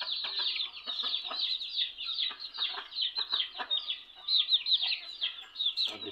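Chickens on a mountain farm in the Philippines cluck and chatter steadily while being fed, a busy flock of overlapping soft calls, fairly quiet and close, with no talking.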